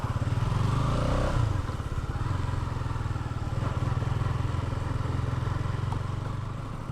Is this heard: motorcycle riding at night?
yes